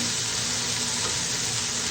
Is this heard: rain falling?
no